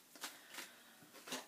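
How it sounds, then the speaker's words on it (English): A deck of tarot cards is shuffled close by in quiet repeated bursts, three short riffling rustles spaced apart. "While I'm shuffling"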